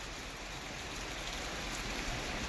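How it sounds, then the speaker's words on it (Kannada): Steady, dense rain falls during a full day of downpour in Bijapur, a constant close hiss of drops on surfaces with no breaks and no voices. "8:15 ಚಾಲೂ ಆಗಿದ್ದು ಮಳೆ ಇಲ್ಲಿವರೆಗೂ ಸ್ಟಾಪ್ ಆಗಿಲ್ಲ."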